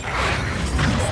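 Confringo blasting spell cast in Hogwarts Legacy, a loud, brief burst of whooshing, crackling noise with a heavy low rumble, sounding alone.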